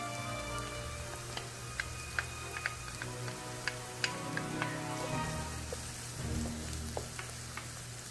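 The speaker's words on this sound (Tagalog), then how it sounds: "Igisa na rin ang garlic." Garlic sautéing in a hot pan, a steady close sizzle and crackle with small ticks and pops spread through it, continuous and even throughout.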